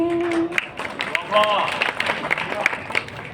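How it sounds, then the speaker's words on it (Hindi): An audience at a Hindi poetry recital breaks into applause, crisp scattered claps mixing with crowd murmur and voices talking over them, the clapping rising and thinning in bursts. "इतनी घंघोर तालियों का बहुत बहुत शुक्रिया अदा करती हूँ"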